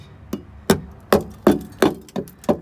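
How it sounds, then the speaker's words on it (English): A crowbar strikes the solid, previously patched metal bodywork of a Ford Transit van, giving seven sharp, ringing metallic impacts at a fairly steady rhythm. The blows are close and loud, with no talking. "I've been hitting it with a crowbar, as you can see."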